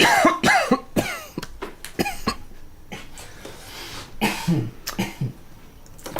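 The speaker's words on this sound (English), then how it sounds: "Did you just cough?" Several coughs and throat-clearing sounds from a person, close and fairly quiet, coming in short irregular bursts with brief pauses between them, no talking.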